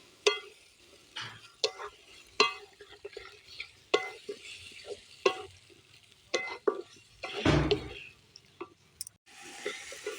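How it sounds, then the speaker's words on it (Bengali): Mutton is stirred and sautéed in a covered pan for kosha, with irregular spoon scrapes and clinks over a faint sizzle, plus one louder clatter near the end. "মাটনটা এবার ঢেলে দিলাম। এবার একটু কষিয়ে ঢাকা দিয়ে কষাতে থাকবো।"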